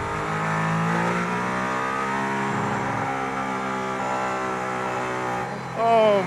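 A Mercedes-AMG ONE hypercar on the Barcelona circuit gives a loud, sustained high-pitched engine whine with stepped gear changes, heard from inside the car, ending in a short burst of revs.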